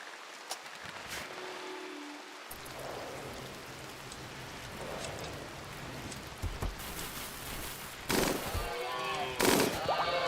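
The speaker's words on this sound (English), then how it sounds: "I keep forgetting I gave my hunter an LMG, so when I hear that go off, I'm like, battle!" A hunter's light machine gun in Rimworld, firing in short bursts of rapid cracks against a hiss of steady rain, growing louder toward the end.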